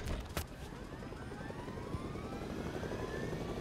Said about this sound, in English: That was a chopper landing on us?